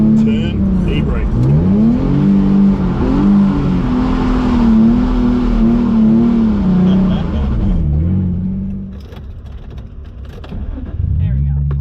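Car with a manual transmission driving and turning, its engine droning and rising and falling in pitch as a learner works the clutch and e-brake, with people talking over it throughout.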